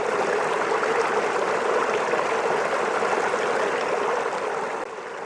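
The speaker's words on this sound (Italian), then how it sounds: "La cascata che scivola su un drappo di tessuto pietrificato, un deposito di travertino" A waterfall slides over a travertine deposit in a primordial forest along the Tagliamento in Friuli, a steady broadband rush of falling water, fairly close and continuous, easing slightly at the very end.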